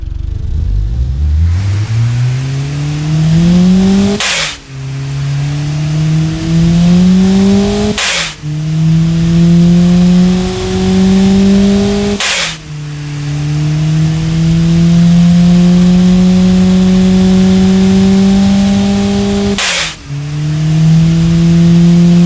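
A simulated Ford 1.5L EcoBoost engine in the Automation car-building game revs loudly and repeatedly, each pull climbing in pitch before a sharp break and drop, five or six rising sweeps close up with no talking.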